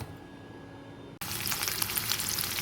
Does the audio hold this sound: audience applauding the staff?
no